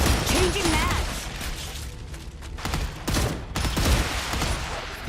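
Video game StarRupture gunfire: rapid bursts of automatic shots and mechanical clatter, loud and close, with a voice calling out over the shooting.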